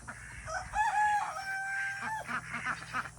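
A rooster on a farm crows a long, drawn-out call at moderate distance, followed by softer clucking from nearby fowl, with a steady low hum underneath.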